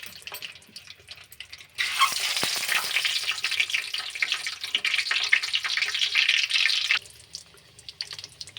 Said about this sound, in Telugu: కొంచెం ఆయిల్ వేసుకుందాం. ఇప్పుడు మనం తీసుకున్న ఎగ్స్ని ఇలా పెట్టుకుందాం.